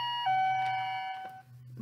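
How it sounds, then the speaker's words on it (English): Doorbell chime, a single sustained tonal ring with a clear step in pitch, soft and close, sounding alone. "as the doorbell rang"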